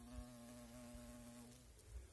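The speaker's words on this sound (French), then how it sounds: "Xylocope, une abeille solitaire, hop, elle est repartie." A carpenter bee (Xylocopa), a solitary bee, buzzes near sweet pea flowers outdoors, a steady low drone that holds for a moment and then fades as it flies off.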